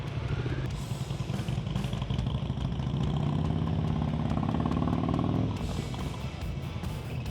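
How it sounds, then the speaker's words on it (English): Motorcycle engine idling and revving at a practice session, a steady mid-pitched rumble that rises slightly then settles and drops off near the end, heard fairly close with no talking. "I hear your RPMs go all the way down before you stop"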